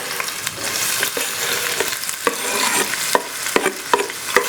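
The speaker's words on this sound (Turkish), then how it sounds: "Yemeklik doğradığımız soğanları tencereye ekliyoruz." Onions sizzle and crackle in hot olive oil in a pot, with a utensil stirring and scraping at irregular intervals.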